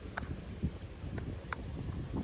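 Low, steady wind rumble buffeting the microphone while kayak fishing near docks, with a few faint clicks and knocks scattered through it.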